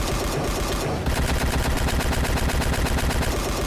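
Stand punch barrage ability from a Minecraft JoJo mod firing off in a rapid, continuous flurry of loud impact hits, dense and machine-gun-like, preceded by a short swoosh.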